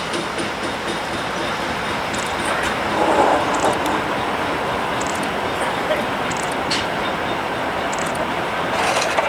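CSX geometry test train, led by unit 9969 with a GP40, rolling past on the Hudson or River subdivision line, a steady broad rumble with faint clatter and high squeal, with someone speaking briefly over it.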